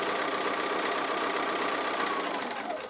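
A sewing machine stitches down a tree appliqué on a quilt, a steady continuous mechanical whir running close and fairly loud for the whole stretch, tapering slightly at the end.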